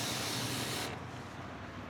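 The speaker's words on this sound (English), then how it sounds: "It's actually fairly quiet, especially in the bag, and it sprays really nice." A homemade airless detail and wash keg sprays in a steady, broadband hiss that cuts off partway through, leaving a quieter hiss of lower pressure.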